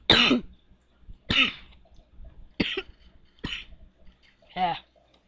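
Five harsh coughs from a person with a lingering bad cough, each burst spaced about a second apart, loud and close with near silence between.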